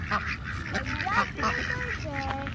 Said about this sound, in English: you should come over here and feed some ducks